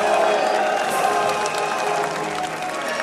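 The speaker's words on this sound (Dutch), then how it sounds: "Voor een applaus voor la maglia rosa, Dennis Menchov!" A crowd applauds and cheers for Denis Menchov, the 2009 Giro d'Italia winner in the pink jersey: a dense, steady roar of clapping that eases slightly toward the end.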